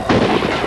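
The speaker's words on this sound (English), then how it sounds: "Why is he still shooting?" A single gunshot from a TV drama's mass-casualty rescue scene, a loud close blast with a broad rumbling tail that fills the short moment.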